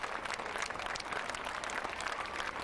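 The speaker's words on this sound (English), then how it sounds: "Everybody up and applauding" A homecoming parade crowd applauds troops returning from Afghanistan, a dense and steady wash of clapping from many hands that stays close and loud throughout, with no talk above it.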